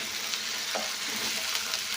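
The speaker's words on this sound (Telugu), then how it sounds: "దీన్ని కూడా బాగా పచ్చివాసన పోయేంత వరకు వేపుకొని" Half a tablespoon of ginger garlic paste fries in a hot pan with a dense, even sizzle and soft crackle, close and continuous with no talking.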